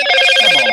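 A telephone rings in a short, loud burst of bright electronic trilling tones, close and alone.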